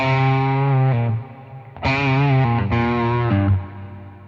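Distorted guitar notes ring out through an effects pedal, each sustained tone trailing off with a smeared, chorused tail; no talking.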